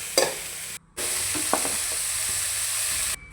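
Oil frying in a pan makes a steady close sizzle, broken by a brief cut, with a few soft stirring scrapes and taps and no voices.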